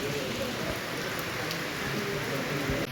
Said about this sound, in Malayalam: ഈ മഴ മാറുന്നവരെ ഇവിടെ എവിടെയെങ്കിലും കയറി നിൽക്കാമെന്ന് കരുതി